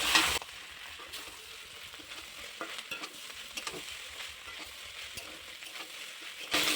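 Egg pasta with meat masala stirred in a frying pan, a steady soft scraping and sizzle with spoon scrapes running continuously at moderate level, no voices.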